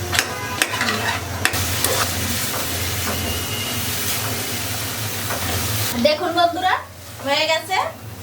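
Roasted brinjal goes into a pan of fried fish heads and is stirred. A loud, continuous sizzle and scraping fills most of the stretch, then a voice speaks over the softer frying near the end.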